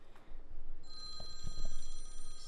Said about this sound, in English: Hold on, this is my phone right here.